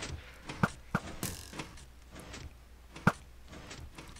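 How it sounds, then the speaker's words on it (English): Metallic clicks, clunks and a rattling scrape as a door is worked loose and pulled off a Micro's Dragonfly attack helicopter in a junkyard, a few sharp knocks close by with quiet between them. "Let me get rid of this door."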